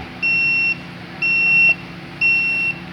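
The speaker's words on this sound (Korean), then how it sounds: "안 맞으면은 이제 깜빡거리면서 삐삐삐 소리 나고" A green LTG 3D multi-line laser level beeps when it is not level, giving three evenly spaced, sharp electronic tones of about half a second each, clear and close with short silent gaps between.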